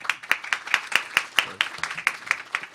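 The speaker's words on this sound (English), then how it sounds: "Don't applaud to me" An audience applauds at a faculty panel, with steady clapping from a modest crowd, evenly spaced hand claps sounding close and fairly crisp throughout.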